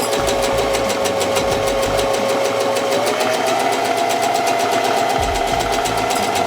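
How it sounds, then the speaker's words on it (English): A sewing machine runs steadily and continuously, stitching fabric into a tube for a hair scrunchie, with a fast rapid needle rhythm that stays loud and close throughout. "We're just going to keep on sewing down."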